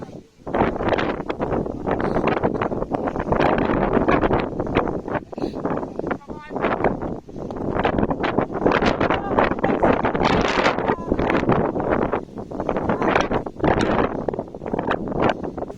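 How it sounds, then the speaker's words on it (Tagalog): Strong mountain wind on a hike on Mt. Mariveles buffets the microphone in loud, continuous gusts, with voices talking faintly underneath. "malakas na kasi yung hangin"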